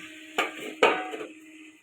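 A lid is set on a pot of fish curry cooking with potatoes and drumsticks. Two quick metallic clanks, about half a second apart, each leave a short ringing tail over a quiet kitchen hum.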